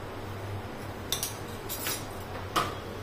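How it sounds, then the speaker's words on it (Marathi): A knife run around the sides of a cooled, baked rava cake to loosen it from the tin, giving a couple of faint metallic scrapes and clinks against a quiet background. "आता एका चाकूच्या सहाय्याने असं साईडने सैल करून घ्यायचा"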